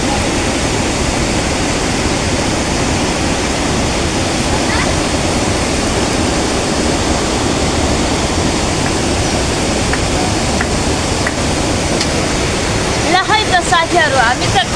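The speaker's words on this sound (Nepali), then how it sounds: "पानी ठुलो परिरहेको छ" Heavy rain pours by a river in a Nepali village, a loud, dense, steady hiss of water throughout, with a few brief sharper splashes or knocks near the end.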